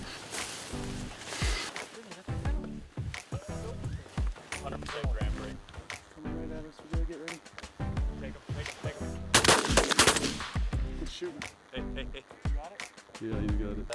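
Shotgun blasts during a waterfowl hunt, several loud close shots in quick clusters, with people talking and calling out around them in the field.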